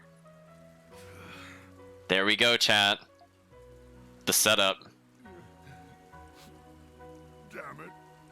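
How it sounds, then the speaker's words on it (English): Steady rainfall in the video game Ys VIII: Lacrimosa of Dana patters continuously in the background, with someone talking over it in two short bursts. "Oh, chat, it's raining."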